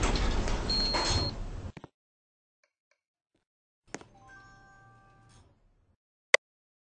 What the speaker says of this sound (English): Stand clear of door.